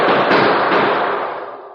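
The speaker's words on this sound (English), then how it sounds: "it exploded into roaring gunfire" Roaring gunfire in a 1949 Lone Ranger radio drama: one short, loud burst of crackling shots that quickly fades, with no voices.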